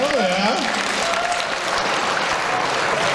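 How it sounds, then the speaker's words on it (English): A voice speaks briefly, then an audience at a retro gaming expo auction breaks into sustained applause that fills the room and keeps going. "You can clap for Steve Lynn donating this."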